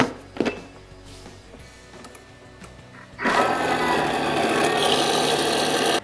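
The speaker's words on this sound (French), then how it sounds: "je vais mixer la coriandre pour vous montrer le résultat" A blender whirs loudly as it blends coriander into hummus, starting after a few seconds of quieter clinks and handling and then holding a steady, grinding roar until it cuts off.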